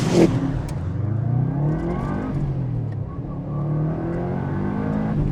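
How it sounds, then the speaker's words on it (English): A Subaru 22B engine revs and drones steadily with a low, throbbing boxer rumble, rising and falling in pitch, close and loud throughout. "Still got a boxer engine."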